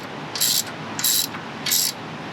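A ratchet wrench snugs a bolt on the front brake of a 2011 Range Rover. Three short bursts of rapid clicking come close together and close up, with quiet pauses between the strokes.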